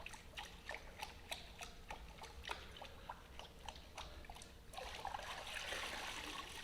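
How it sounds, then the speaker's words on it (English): Dirty mop being rinsed in a bucket of water while mopping a stage floor, with soft trickling, dribbling and splashing, a run of brief wet taps and then a steadier rush of water near the end, close and fairly quiet. "my mop's dirty, I still have to come and rinse it out"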